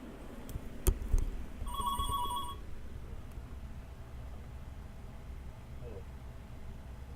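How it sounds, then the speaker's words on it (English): A telephone gives one short electronic ring burst in a small aircraft cockpit after engine shutdown, over a steady low background hum. "I got a phone call."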